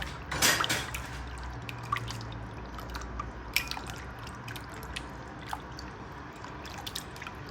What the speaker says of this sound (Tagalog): Haluin lang natin ng ayos.